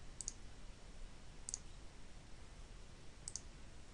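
Three crisp, faint computer mouse clicks spaced about a second apart over a quiet background hiss, made while clicking a Search button on a course registration page.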